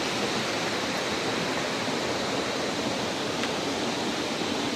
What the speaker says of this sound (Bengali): ঝর্ণার এতই আওয়াজ, কথা কতটা শোনা যাবে জানি না, ঝর্ণার জলের আওয়াজ